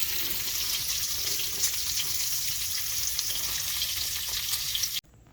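Bacon sizzling in a pan, a steady dense crackling hiss held at even loudness for about five seconds before cutting off abruptly into quiet.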